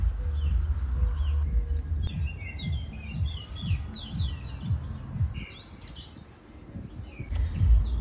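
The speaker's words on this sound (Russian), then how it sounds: "Птички поют." Small birds chirp and tweet repeatedly in a seaside park with seahorse statues and shells on Gran Canaria, bright calls scattered over a low rumbling background of wind or distant traffic.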